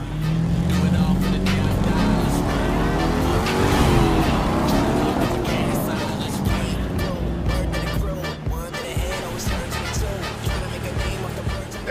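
A street race car engine in the video game The Crew 2 revs and roars at high speed with rising and falling pitch, punctuated by tire squeals, loud and continuous.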